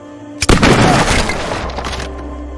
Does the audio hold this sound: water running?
no